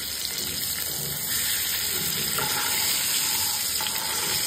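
Boiled eggs frying in hot oil with turmeric and salt, a fairly quiet, steady sizzle with light crackling and occasional soft clinks, and no voices.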